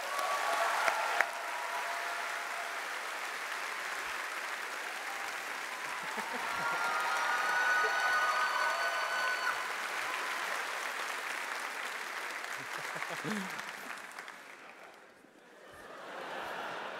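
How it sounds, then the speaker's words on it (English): A large convention audience at a PAX West 2017 panel celebrating The Witcher's tenth anniversary applauds in a steady, dense wave of clapping, swelling slightly midway before tapering off near the end. "Let's get another warm round of applause for Mr."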